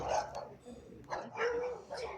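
Dogs in an old cemetery in El Agustino, Lima, give a few short barks and yips at close range, mixed with a person talking.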